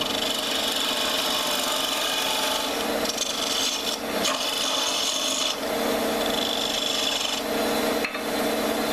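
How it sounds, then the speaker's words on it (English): Spindle gouge roughing a wooden throw top on a lathe, giving a steady loud rasping scrape that shifts in tone as the tool moves, with brief dips where the cut eases. "One of our spindle gouges and start roughing up the top, the shape we want."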